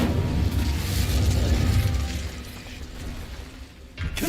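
A fire spell cast in a wizard video game bursts out as a loud, dense whoosh and rumble for about two seconds, then fades to a lower crackling bed before a short second flare near the end.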